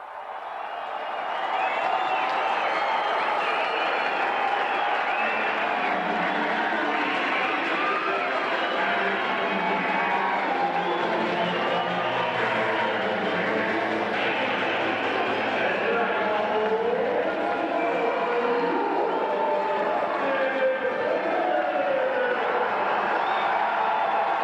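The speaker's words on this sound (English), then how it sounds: "Crowd whooping it up." A large arena crowd at an indoor lacrosse game at the Fleet Center cheers and whoops steadily through the player introductions, a loud, sustained roar with shouts rising and falling and faint announcing underneath.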